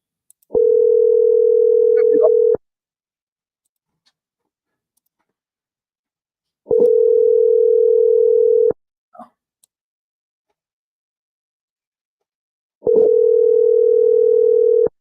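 A telephone ringback tone while calling a seller, three long steady tones about two seconds each with roughly four seconds of silence between them, loud and clear.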